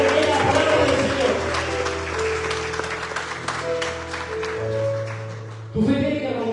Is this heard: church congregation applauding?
yes